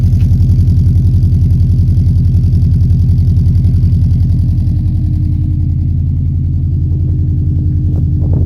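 A 2004 Subaru Impreza STi engine idles just after a cold start, a loud, steady low rumble with an even pulsing rhythm that settles slightly lower toward the end, with no voices.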